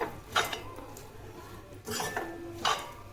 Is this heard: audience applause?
no